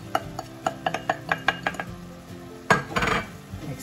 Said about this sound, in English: Mix that in.